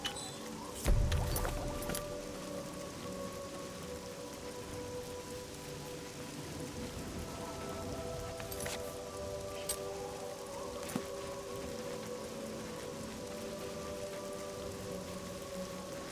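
Steady rain in the video game Oblivion on a dark night, a constant soft hiss broken by a few scattered sharper drops, with a low hum running underneath and no one speaking.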